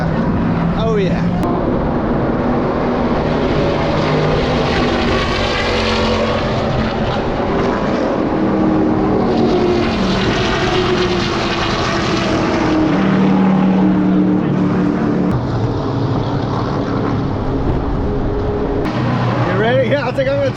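A Jack Daniels NASCAR race car at Texas Motor Speedway roars with a loud, continuous engine drone that rises and falls as it passes, and people talk over it.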